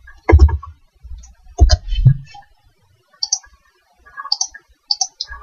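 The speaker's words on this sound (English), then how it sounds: "And we're just going to type something." Clicks and keystrokes on a computer keyboard and mouse, arriving in short, irregular clusters of sharp taps separated by brief silences.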